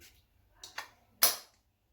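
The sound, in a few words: spraying Bentley Intense for Men perfume on arm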